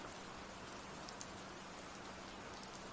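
Steady rain patters continuously on a surface, a soft even hiss with scattered drops and no voices.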